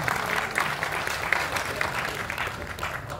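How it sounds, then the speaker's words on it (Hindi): Sustained audience applause fills a literary society's foundation-day poetry gathering on stage, steady and dense throughout with faint voices mixed in. "मंच के लिए आप सब लोग तालियां फिर से बजा दें"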